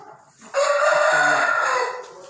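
An Aseel rooster of mushka colouring crows once, a loud, close, sustained call that holds steady for well over a second before trailing off, with no talk over it.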